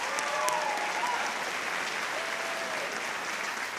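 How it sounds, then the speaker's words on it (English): An audience at an awards event in a high school applauds in a continuous, even wash of many hands clapping, moderately loud and unbroken from start to finish. "Let's give them a round of applause."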